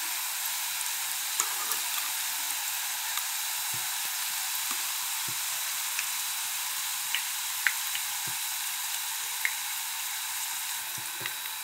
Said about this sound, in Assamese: নিমকিখিনি এতিয়া অলপ সময় ভাজিব লাগিব